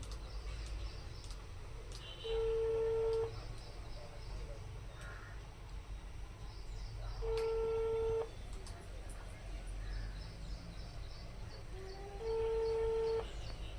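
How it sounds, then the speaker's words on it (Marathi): A phone ringback tone repeats three times, each burst about a second long with roughly four seconds of quiet between, over faint outdoor noise and distant crows. "रिंगच वाजते असे बघा आता फोन उचलीत नाही"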